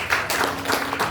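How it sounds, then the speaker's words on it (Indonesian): A church congregation claps for God during an Ascension Day worship service, a short burst of dense, steady applause from many hands that fills the room for about a second. "Ada beri tepuk tangan pada Allah"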